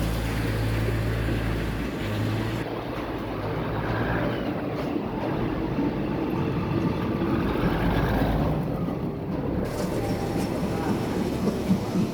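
Freight train arriving at Taphan Hin station, a continuous loud rumble and clatter of rolling wagons close by, with some voices under the noise.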